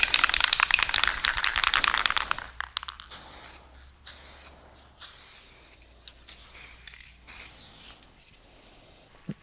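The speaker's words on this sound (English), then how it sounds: "I'm now going to put some of the top coat pre-mixed colour on it, which is oak green." A spray can lays oak green top coat paint onto a car panel, one long loud hiss at the start followed by several shorter bursts separated by pauses.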